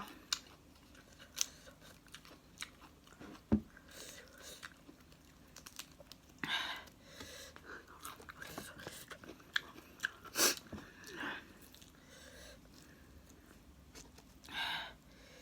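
Someone eating som tam papaya salad with rice noodles, fresh vegetables and mackerel, with scattered crunchy bites and chewing, mostly faint and close, with a few sharper crunches standing out.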